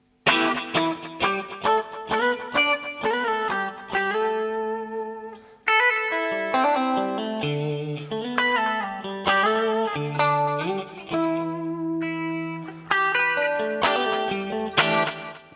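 Electric guitar through an effects unit with a touch of chorus, playing the opening bars of a song: chord stabs and ringing single notes in a flowing, expressive phrase, close and clear with no talking.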